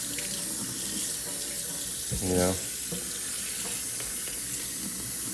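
Tap water running steadily while dragon fruit seeds are rinsed in a strainer, a broad constant hiss and splash, close by, with one brief gurgling swirl partway through and no talking.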